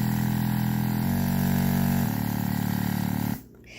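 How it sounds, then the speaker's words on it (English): A small makeup airbrush compressor hums loudly and steadily, stepping in speed from medium to high to low before cutting off near the end. "that's how this particular compressor works here"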